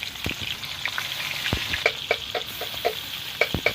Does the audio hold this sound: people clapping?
no